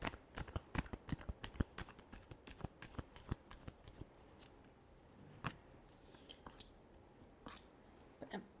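Tarot cards are shuffled by hand in a run of quick, crisp riffling snaps and flutters, faint and close, with pauses between bursts.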